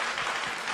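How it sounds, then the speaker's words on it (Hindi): Loud, steady applause from an audience at a Safe Shop training event in Jaisalmer, a dense wash of clapping filling the whole moment without pause. "चलो बजा लें जोरदार ताली।"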